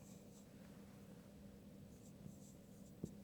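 Pen or chalk writing out a formula by hand during a maths lesson, a quiet steady scratching over low room hiss with a small tap near the end and no talk.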